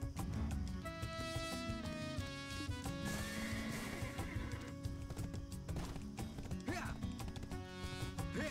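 Horse in the Black Desert video game neighing loudly while hooves clip-clop in steady rhythm, layered over continuous game music.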